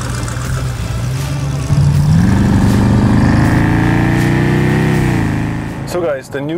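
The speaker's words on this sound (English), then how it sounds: "the new fuel pump is installed and the car is running pretty good" Dodge Hellcat engine running after a new fuel pump install, a loud close idle that rises into a deeper steady rev and drone before settling, with a brief voice at the end.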